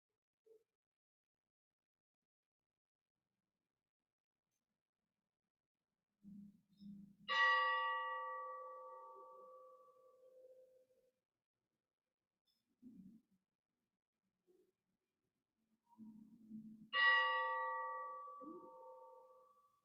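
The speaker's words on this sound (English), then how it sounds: "we will acknowledge John's life with the tolling of the bell 3 times" A church bell tolls at a funeral service in slow, widely spaced strikes, each ringing out and fading over several seconds, with faint low rustles and shuffles in the quiet room between the tolls.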